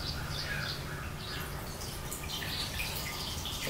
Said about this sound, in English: Water's coming into the filter